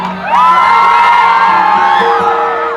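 A stage-show audience in a village in Bakhtiyarpur, Bihar, shouts, whoops and cheers loudly in a sustained, dense roar with high children's yells rising over it, lasting the whole stretch without pause.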